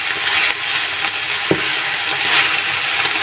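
Malabar spinach (pui shak) frying in a pan: a steady close hiss of sizzling oil with occasional scrapes and a single knock of a spatula, no voices.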